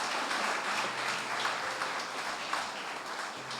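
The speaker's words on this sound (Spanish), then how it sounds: "Yo quiero que le dé un aplauso al Señor." Steady applause from a church congregation, continuous dense clapping at moderate volume throughout, with no voices on top.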